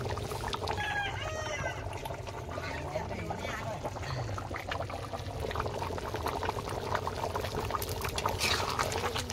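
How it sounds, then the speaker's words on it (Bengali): Chicken curry made with a pair of country roosters boils hard in a large pan, a steady dense bubbling and sizzling that runs throughout beneath constant background chatter and voices. "তরকারি টকবক করে ফুটছে"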